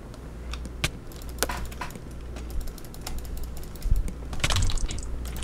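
Fast, uneven clicking of a computer keyboard during a Minecraft Hunger Games session, with sharp key strikes fairly close and loud and a busier flurry near the end.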